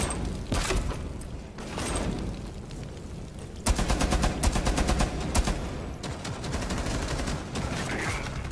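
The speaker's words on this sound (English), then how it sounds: "Firing grenade." A video game grenade launcher fires amid heavy gunfire, with dense bursts of rapid shots and booms running throughout, growing louder and more clustered partway through.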